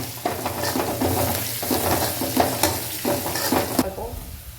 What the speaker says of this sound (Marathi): तर आता हळद परतून घेतल्यानंतर